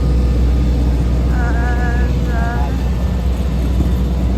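Loud steady engine drone of an airplane at an airport gate, constant rumble throughout with a brief whining tone midway, heard nearby from the terminal side.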